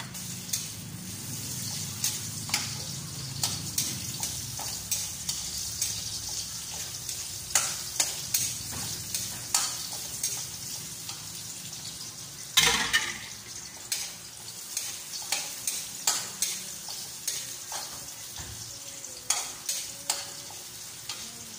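Ginger frying in hot cooking oil with garlic for adobong chicken liver: a continuous sizzle under frequent stirring clicks and scrapes, with one sharper clatter midway.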